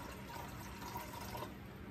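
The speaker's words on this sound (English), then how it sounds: "I'm going to use this gallon, pour it in here" Liquid pours steadily from a gallon jug into a container, a continuous rushing, splashing flow that lasts about two seconds.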